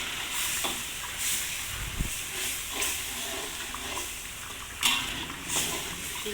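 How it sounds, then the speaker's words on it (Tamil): Egg sambal simmers and sizzles with a steady hiss as a tablespoon of sugar goes in, with faint scattered clinks of a spoon against the pan and one sharper tap, and no talking. "ஒரே ஒரு டேபிள் ஸ்பூன் சீனி போடுவோம்."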